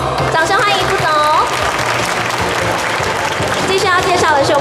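A crowd at a Kaohsiung carnival awards ceremony applauds in a dense, continuous wash to welcome a Datong Group vice president, with a voice talking over the clapping throughout.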